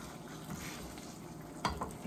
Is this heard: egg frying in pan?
yes